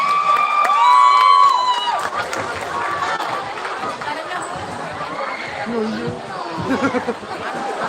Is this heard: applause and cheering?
yes